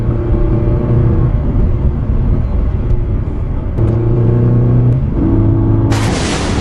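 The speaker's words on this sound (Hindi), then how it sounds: "तभी एक व्यापारी अपनी गाड़ी से गांव में आ जाता है।" A trader's car rolling into a village, a steady loud engine rumble with droning tones that shift as it drives, ending in a burst of broadband noise.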